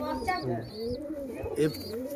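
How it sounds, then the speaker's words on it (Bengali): Andhra-line Kalenka pigeons coo in short low bursts close by, with a few higher chirping calls and some nearby voices in the background. "পায়রা দেখতে পারো, কালেঙ্কা পায়রা"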